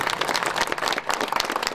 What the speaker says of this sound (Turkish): Aslında alkışa Arife teyze hak ediyor, değil mi yani?